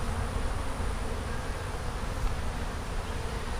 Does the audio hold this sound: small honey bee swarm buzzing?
yes